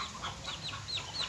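A duck at a rural farm in the Philippines gives a short burst of quick, fairly faint quacks in a rapid rhythm.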